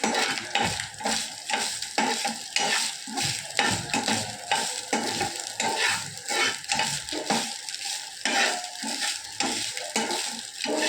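Ingredients with dried red chillies, roasted gram and salt are sautéed in a pan, giving a close, loud, continuous sizzle under repeated rhythmic scraping and stirring strokes of a spoon, with no talking.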